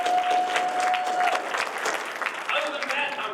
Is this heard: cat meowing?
no